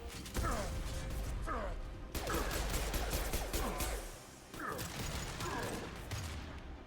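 Bursts of gunfire crackle through a firefight in Mass Effect Legendary Edition 2, with several rapid volleys and sharp impacts at moderate distance under a steady background roar.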